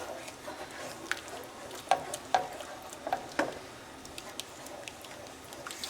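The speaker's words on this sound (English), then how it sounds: "Usually just takes about 5 minutes to just stir everything together and heat it." Sun-dried tomato and parmesan pasta sauce being stirred and heated in a pan, a soft low sizzle under scattered spoon clicks and taps, fairly quiet and close.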